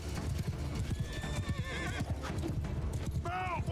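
Horses in a Mount & Blade II: Bannerlord battle clip-clop in a dense, rapid hoofbeat rhythm with occasional whinnies and neighs, amid battle noise and a voice speaking.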